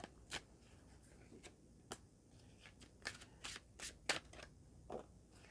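Tarot cards being shuffled and laid out on a table, a quiet run of soft riffling slaps and flicks at an uneven rhythm, close by, with no talk.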